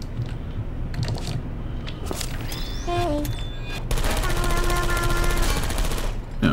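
Portal 2 video game turret firing, a rapid, continuous burst of automatic gunfire with dense repeated shots over a low game ambience, along with short electronic tones and beeps.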